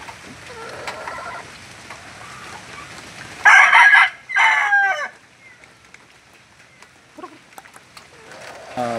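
A rooster crows loudly twice in close succession among young pullets, with softer clucking and farmyard bird sounds before and after.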